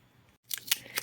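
A few quick, crisp, close snips of scissors cutting paper, following a brief moment of quiet.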